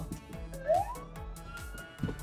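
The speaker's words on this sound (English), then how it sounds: "Do you hear the siren?" A fire truck siren wails with a rising tone, moderately loud, accompanied by a series of regular clicking pulses.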